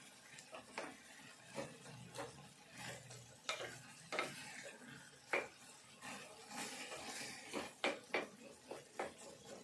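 A spoon stirs tomato and tamarind chutney in a pan, giving soft repeated scrapes and clinks against the metal at an uneven rhythm over a faint sizzle, close and quiet.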